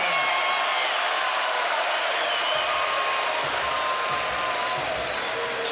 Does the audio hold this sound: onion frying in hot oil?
no